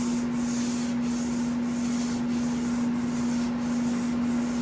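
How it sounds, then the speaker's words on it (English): A sander works over a body panel of a 1985 Jeep CJ7 during restoration, producing a continuous abrasive whir with faint rhythmic scraping strokes and no voices. "Let the sander do the work."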